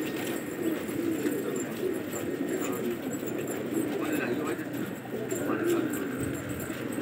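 Pigeons in a fancier's flock coo in a low, continuous warble close by, heard beneath people talking and faint shuffling sounds throughout.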